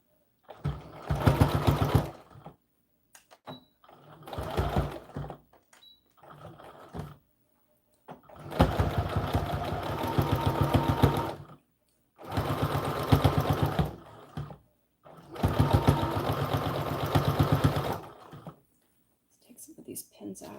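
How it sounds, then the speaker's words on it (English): Sewing machine stitching close to the bottom edge of a doll dress yoke, running in several bursts of a few seconds each, separated by short pauses, loud and near. "I'm going to sew close to the bottom edge of this yoke, right where it comes right along the dress part"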